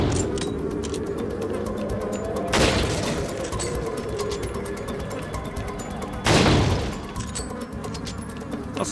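Gunfire in Resident Evil 4, with loud broadband shots landing near 2.6 and 6.3 seconds over a steady game background of ambience and rattling, with no talk.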